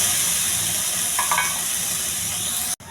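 Chana dal sizzles and fries in hot oil with green chilies, curry leaves, onion and ginger-garlic paste, the base for a cabbage fry. A steady, close frying hiss runs throughout with light stirring, then cuts off abruptly near the end.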